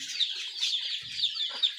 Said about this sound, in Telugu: నూట నలభై చిక్స్ వరకు ఉన్నాయండి